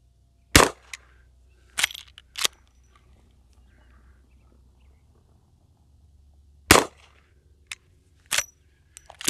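A Henry All Weather side loading gate .44 Magnum lever-action rifle fires several sharp, loud shots in irregular bursts, with quieter clacks of the lever cycling between them and near silence in a long gap.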